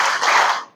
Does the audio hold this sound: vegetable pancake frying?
no